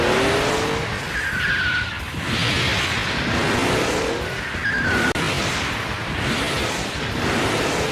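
Transformers vehicles racing together in Transformers Call of the Future, engines roaring loud and steady with repeated tire squeals and skids, one sharp knock midway.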